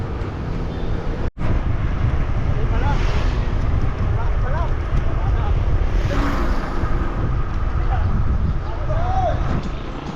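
Strong headwind and crosswind buffeting a cyclist's microphone during a group road ride, a loud continuous low roar with gusty rumble and a brief dropout near the start.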